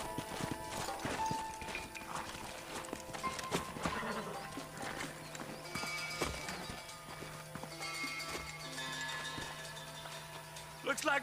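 Horse hooves clip-clop in Red Dead Redemption gameplay, steady and mid-distance, with an occasional whinny, mixed under game voices and ambient sound.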